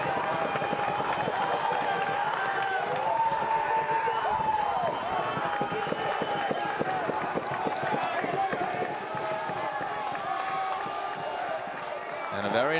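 A baseball crowd at Jack Coombs Field applauds and cheers steadily through the stretch, a moderate mix of clapping and chatter from the stands with some louder bursts.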